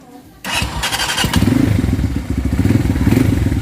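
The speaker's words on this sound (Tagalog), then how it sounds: "Tingnan natin gumagana yung starter. Try natin yung starter." Rusi KRY 200 motorcycle with its electric starter cranking after a repair, a sudden loud start followed by rapid rhythmic mechanical chugging and clatter, close and strong throughout.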